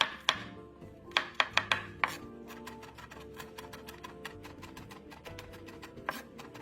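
A knife minces three garlic cloves on a board, starting with a few sharp separate chops, then settling into quick, even, fairly quiet tapping.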